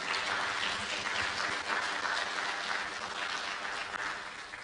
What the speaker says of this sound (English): Please clap for these people.